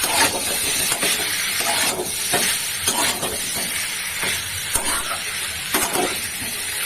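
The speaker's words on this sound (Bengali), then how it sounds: "একটু মিষ্টি দিলাম এবার, আরো কষাবো" Jackfruit curry sautés in a pan after sugar goes in, giving a loud, continuous sizzle broken by repeated scraping strokes of the stirring spoon.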